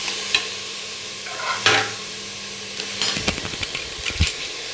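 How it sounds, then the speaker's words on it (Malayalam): Ash gourd curry being stirred in a pan over high heat, a low sizzle under a few scattered scrapes of a spoon, then a closer run of quick stirring scrapes near the end. "നന്നായിട്ടൊന്ന് ഇളക്കുക"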